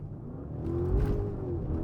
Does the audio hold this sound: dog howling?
no